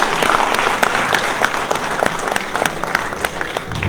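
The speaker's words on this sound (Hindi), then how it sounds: "एक बार जोरदार तालियों से" Audience applause at a Hindi book launch event for an economics book, a sustained hall full of clapping, fairly loud and even throughout, with no speech over it.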